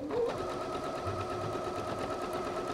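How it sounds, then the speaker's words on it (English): A sewing machine stitches quilt binding toward a corner, a steady, fast mechanical whir with a faint rhythmic needle clatter that stays even throughout, close and moderately quiet. "Now I'm going to stitch to the corner, stopping about 1/4 inch from the edge again."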